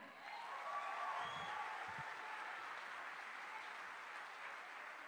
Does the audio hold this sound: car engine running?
no